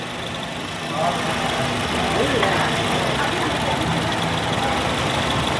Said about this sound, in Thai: เครื่องโหลดมากเอาเกียร์ถอยครั้ง